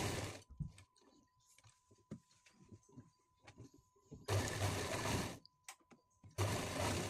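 A sewing machine stitches the half-leg seam of full-length trousers. It runs in two loud, steady bursts, one long and one shorter, with quieter handling noises and fabric rustle in between.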